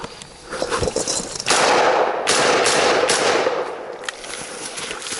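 Rapid bursts of gunfire at a WWII battle re-enactment, loud and dense, with sustained volleys and sharp overlapping shots echoing across the field.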